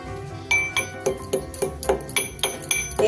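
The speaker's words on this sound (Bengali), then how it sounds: "এবার ওটা আমি একটা হামাল দিস্তের মধ্যে নিয়ে গুড়িয়ে নেব" Roasted spices pounded in a mortar and pestle in a home kitchen, a steady series of sharp, clinking knocks roughly every half second, close and fairly loud with no talking.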